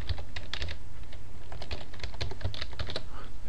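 Fingers type a password on a computer keyboard in a quick, uneven run of close, crisp key clicks, with no talking.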